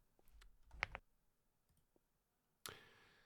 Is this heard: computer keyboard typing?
yes